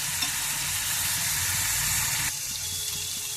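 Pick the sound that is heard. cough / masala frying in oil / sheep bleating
masala frying in oil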